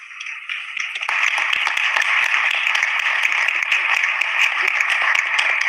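Applause at the United Nations General Assembly Youth Forum as the President of the General Assembly arrives: a dense crowd of hands clapping, starting lighter and swelling after a second into steady, sustained clapping that fills the room.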